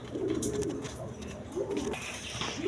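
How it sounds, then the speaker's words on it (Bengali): A pair of high-quality pigeons at a pigeon market gives soft low cooing calls, two or three short rolling coos close by over quiet background. "এখানে এক পেয়ার কবুতর আছে দেখেন হাই কোয়ালিটি কবুতর"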